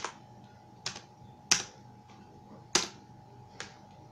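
Typing on a computer keyboard while entering values in Creo CAD software, a handful of sparse, crisp key clicks at uneven intervals, quiet and close with no talking.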